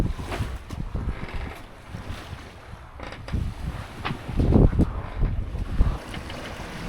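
Sailboat under way off Malta near Gozo, with gusty wind buffeting the microphone and water rushing and slapping against the hull in uneven surges, loud and close.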